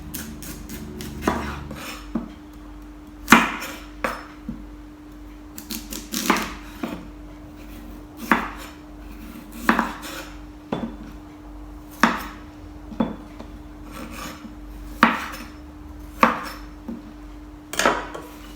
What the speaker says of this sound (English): this one I'm actually going to peel using a knife